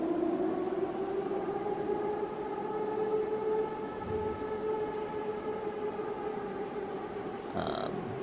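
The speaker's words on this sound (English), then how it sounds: "now there's sirens in Kyiv" Distant air raid sirens in Kyiv drone in a steady, layered tone over low background rumble, faint and far off, with no voices.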